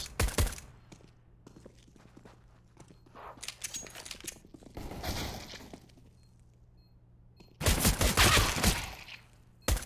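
Counter-Strike Glock pistol fire during an entry onto the A bomb site, with bursts of rapid gunshots and glassy cracks near the start, middle and a dense loud volley near the end, between quieter stretches.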